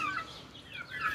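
Young chicks fed millet in an enclosure, giving a cluster of high, wavering peeps and chirps that rise and fall in quick overlapping calls, close by with no talking.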